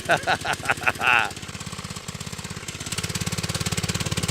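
A 1970 Rupp Roadster minibike engine chugs steadily with a rapid pulsing putter that speeds up slightly, after a brief stretch of voice at the start.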